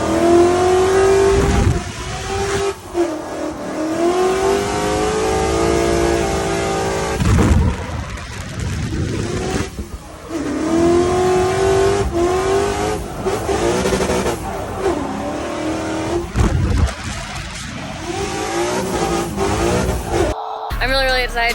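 A C6 Corvette drift car's engine revs repeatedly on a track, the loud, close pitch rising and falling in surges, with people talking over it throughout.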